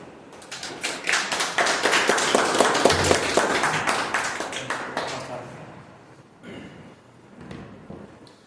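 An audience at a Toastmasters club meeting claps to welcome a speaker on stage, a lively burst of applause that swells, then fades out around the five-second mark, followed by a few faint sounds.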